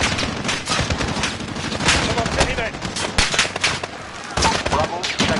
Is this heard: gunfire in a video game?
yes